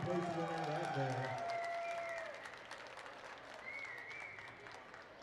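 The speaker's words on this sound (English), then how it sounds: "Big round of applause for your second place winner right there" Crowd applause for a second-place winner at a Grand Traverse Band of Ottawa and Chippewa Indians round dance, sustained and moderately distant, with a voice heard over it and a whistle-like tone at times.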